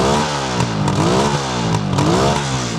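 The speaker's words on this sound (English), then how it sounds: "Have a listen to how quiet the engine is." A 1976 Suzuki GT750 two-stroke triple, freshly rebuilt and warming up on a cold day, runs close by with a smooth, buzzy engine note that swells gently in a couple of small revs.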